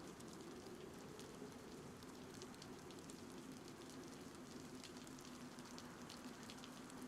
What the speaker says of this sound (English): it's raining in the game too